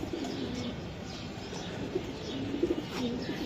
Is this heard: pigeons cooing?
yes